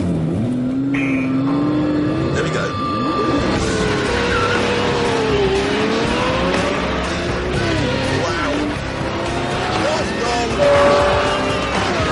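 A Lamborghini Murcielago LP640 launches from a standstill, its engine roaring as the revs climb and shift with a hint of tyre squeal, heard from inside with a voice speaking over it.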